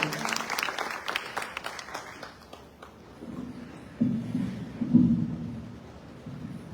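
Loud applause from an audience at a poetry recital, dense clapping at first that quickly thins out and fades, followed by a low murmur.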